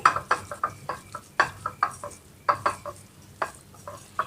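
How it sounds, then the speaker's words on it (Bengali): Mashed taro with mustard oil is stirred in a pan, producing a close, rhythmic series of sharp scraping and clacking strokes, roughly two or three per second, each fading quickly, with no talking. "সরিষার তেল দেওয়ার পর আমি আবার ভালো করে নেড়ে চেড়ে নিচ্ছি"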